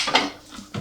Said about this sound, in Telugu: బాండి గిన్నె పెట్టుకొని